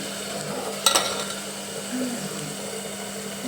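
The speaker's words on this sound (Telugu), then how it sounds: "అక్కడ ఏమో చికెన్కి వేగుతున్న ఉల్లిపాయలు, పచ్చిమిరకాయలు" Onions and green chillies frying in a pan for a chicken dish, heard as a soft continuous sizzle with a sharp clank of a utensil near the start and a low hum in the background.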